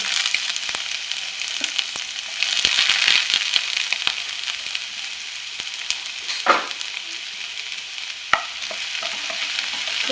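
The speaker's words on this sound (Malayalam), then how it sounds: "വെളിച്ചെണ്ണ ഒഴിച്ച് ഇഞ്ചിയും വെളുത്തുള്ളിയുടെ ചതച്ചതും ഒരു ചെറിയൊരു സവാള ഉള്ളി അതായത് ഇട്ട് കൊടുക്കാം" Ginger, crushed garlic and a small onion fry in coconut oil with a steady, close sizzle, broken by a few sharp stirring clicks and brief louder bursts of spattering.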